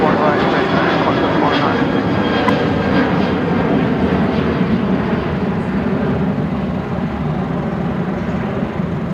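A Qantas jet on the runway at Brisbane Airport gives a steady, loud engine roar throughout, while a voice talks over it.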